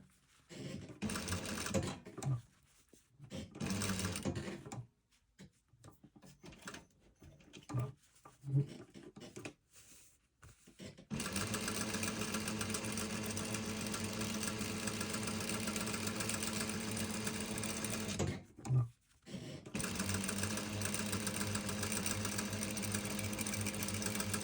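A sewing machine stitches through a front fly zipper, fly shield and layers, running in short stop-start bursts at first and then in a long, steady, even whirr with one brief pause, heard up close with no talk.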